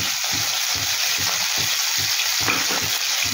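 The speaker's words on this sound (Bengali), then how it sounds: "দিয়ে এটাকে ভাজতে থাকবো, তবে খুব বেশি ভাজবো না" Cauliflower florets lightly salted and frying in a pan, heard as a constant close sizzle broken by a regular rhythm of stirring scrapes, alone with no voices.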